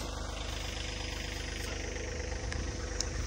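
A small lawn tractor engine runs at a steady idle, a low, even rumble with a faint knocking pulse, fairly quiet and continuous, with no talking over it.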